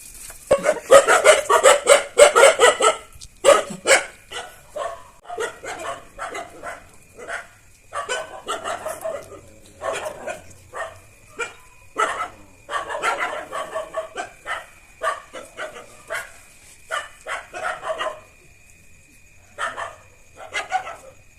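Dogs barking in a village in a long series of short, irregular outbursts, starting as a dense flurry and then thinning to scattered barks, with fowl clucking faintly in the background.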